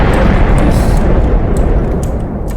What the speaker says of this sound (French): Du coup c'est un missile nucléaire, donc une explosion plutôt puissante.